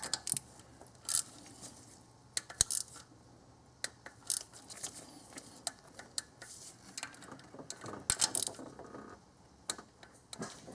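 Socket wrench loosening lower intake bolts on a 2001 Infiniti QX4 with 150,000 miles, sharp metallic ratchet clicks and clanks in irregular bursts, close and fairly quiet, no voices.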